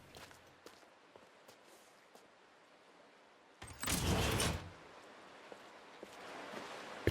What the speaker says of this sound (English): It closes the door like we're on a launching sequence